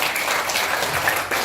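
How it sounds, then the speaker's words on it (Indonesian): An audience at a business marketing presentation breaks into brief, dense applause, loud and continuous throughout. "Beri tepuk tangan buat manajemen Bapak Ibu."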